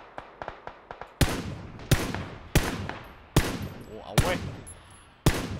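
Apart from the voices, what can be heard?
gunfire in the video game PUBG Battlegrounds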